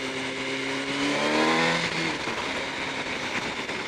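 A motorbike ridden just after being washed, its engine revving up with rising tones, then settling into steady road and wind roar as it cruises along.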